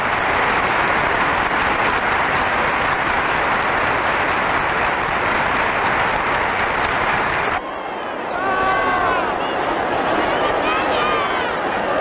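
Representatives of both Spanish parliamentary chambers applauding at the close of the 1978 constitutional session, a loud, sustained wash of clapping that cuts off abruptly, followed by crowd noise and voices.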